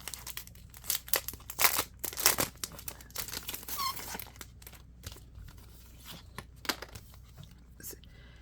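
A Spellbinders embossing folder is pulled from its plastic packaging with sharp crinkling and tearing rustles in irregular bursts, close by, with faint whispering between.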